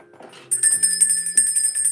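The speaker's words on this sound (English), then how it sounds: "I've got to ring my bell" A small hand bell rings brightly and continuously at close range, with a shimmering metallic tone and repeated strokes, heard alone without speech.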